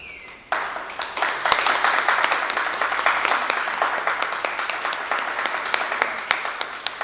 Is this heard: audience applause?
yes